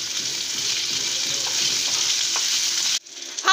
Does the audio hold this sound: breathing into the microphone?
no